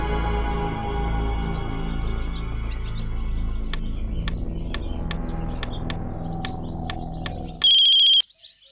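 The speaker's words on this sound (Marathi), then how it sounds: "इथल्या इन्स्पेक्टर कवळेकरांना एक निनावी फोन आला." A telephone rings with an anonymous call, one loud, bright electronic ring bursting in near the end after a quieter tonal background.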